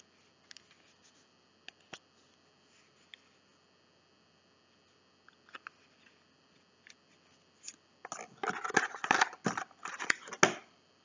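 Packaging for an eye cream is handled and opened, faint sparse clicks and taps at first, then a denser run of crinkling, tearing and snapping sounds close by near the end.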